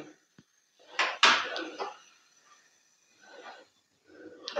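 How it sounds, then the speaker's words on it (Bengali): A metal kadai (wok) is set down on a gas stove while cooking tulumba, a syrup-soaked sweet: a couple of sharp, close clanks followed by quieter scraping and handling sounds. "গ্যাসটা আবার অন করতে হবে, আর আবার একটু কড়াই বসালাম"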